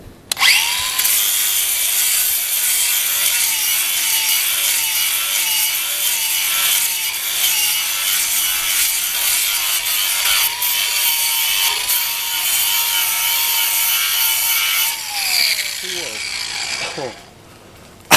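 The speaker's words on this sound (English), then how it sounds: "now I need to make the whole thing smooth with a flap disc" Angle grinder with a flap disc smoothing metal on a Ferguson plough outdoors, a loud continuous abrasive whine with shifting pitch as the disc presses, running for about fifteen seconds before spinning down.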